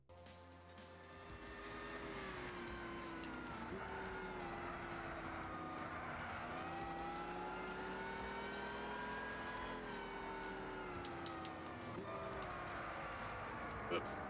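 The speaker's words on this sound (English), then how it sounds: "Yeah, it sounds like you added supercharger." Supercharged Chevy engine in Gran Turismo 6 holds a loud, steady drone for about twelve seconds, with small pitch dips and rises as it shifts and revs, close and continuous.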